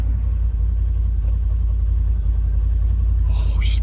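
A dump truck's engine idles quietly with a steady, deep low rumble close by, a smooth, even purring drone throughout, with a brief higher clatter near the end.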